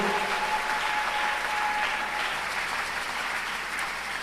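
A church congregation at a Sunday worship service breaks into sustained, dense applause, steady and loud throughout, with no talk over it.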